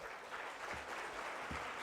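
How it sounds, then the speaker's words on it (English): Applause from the audience at a business panel, a continuous, fairly faint patter of clapping heard throughout, with a couple of louder claps near the middle and a faint voice underneath. "Y'all give these guys a round of applause"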